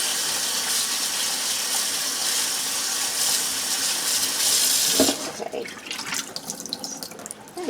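Running water gushes steadily while collard greens are washed in a sink, then the flow stops and wet splashing and leaf handling follow, close and alone.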